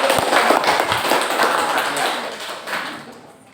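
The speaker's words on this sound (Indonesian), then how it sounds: "Berikan aplaus." Audience applause at a classroom group presentation: a dense, steady wash of many hands clapping, loud and close, slowly tapering off toward the end.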